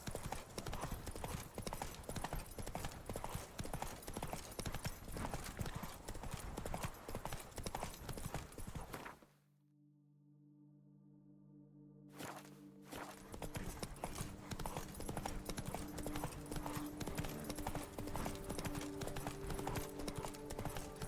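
Hooves of the horse Roach clip-clop in a fast, steady gallop in The Witcher 3: Blood and Wine, loud and continuous, dropping out briefly midway before the rhythmic beat resumes.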